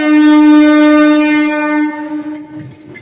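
A passing train sounds a loud, sustained horn that holds steady, then fades as the rumble and clatter of the carriages trail off.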